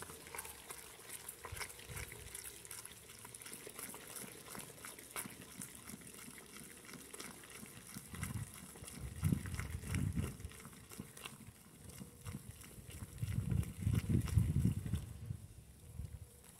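A homemade soap mixture of hot water and sugar is stirred in a container, giving quiet sloshing and scraping that swells into louder liquid churning in two bursts near the end.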